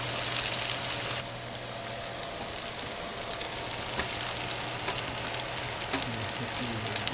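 Vegetables frying in vegetable oil for pancit, a steady hissing sizzle throughout with small pops and crackles, close and continuous, with a faint low hum underneath.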